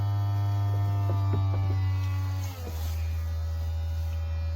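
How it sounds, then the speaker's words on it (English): A steady low electric motor hum drones throughout with faint clicks as a VW T6.1 California Ocean camper's pop-top roof closes, then the pitch shifts as the drive changes tone and keeps running, no talking. "press the button again and it will bring the roof fully down"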